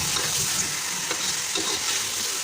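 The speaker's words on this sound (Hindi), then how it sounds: "चिकन इसके अंदर शामिल करके चिकन को इसके साथ अच्छी तरह भून लेंगे।" Chicken, about a kilo, frying with browned onions in a pan for a village-style potato and pea chicken curry, giving a steady close sizzle with stirring scrapes throughout.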